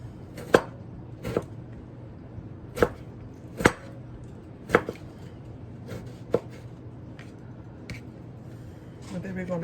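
Kitchen knife dicing a tomato on a cutting board for taco eggrolls, evenly spaced sharp chops about every second over steady background noise.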